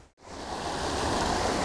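Steady broadband rush of Pennypack Creek flowing in Northeast Philadelphia, a continuous close water wash that swells after a brief dip at the start, with no voices.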